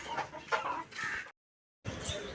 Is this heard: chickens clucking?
yes